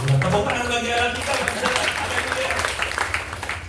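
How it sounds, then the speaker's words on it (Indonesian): A church congregation breaks into applause that swells into dense clapping, while a voice speaks over the start. "Tepuk tangan bagi Allah kita"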